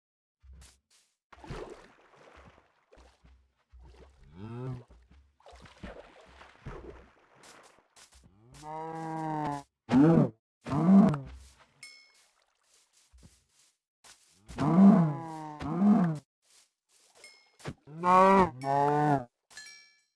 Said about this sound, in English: Bunch of cows.